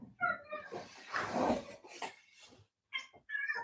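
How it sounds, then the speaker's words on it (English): A 9-year-old female house cat meows close by indoors, a few drawn-out calls at the start and again near the end, with some rustling between them. "Want to meet my cat? This is my cat. She's going to interrupt us from time to time."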